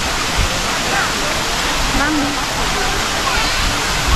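A constant loud roar of falling water from the Forcella waterfall in Italy, dense and unbroken, with a brief spoken word and faint voices underneath.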